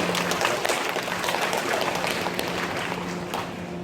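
An audience at a high school admissions information session claps in a dense, steady patter of applause that fades slightly toward the end, with a low hum underneath.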